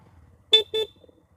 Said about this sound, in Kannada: ಪದೇ ಹಾರ್ನ್ ಮಾಡಲೇಬೇಕಾಗತ್ತೆ.